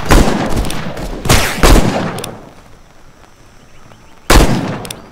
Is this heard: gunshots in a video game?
yes